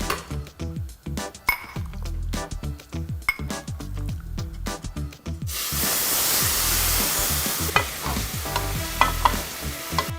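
Liquid pours into a sizzling pan, a steady hiss of frying swelling as it hits, with spoon stirring and clinks against the pot.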